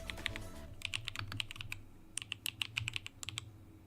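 Rapid typing on a computer keyboard, bursts of quick, crisp key clicks rattling close and quiet over a low background hum.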